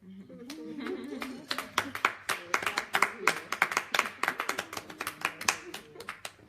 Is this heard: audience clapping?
yes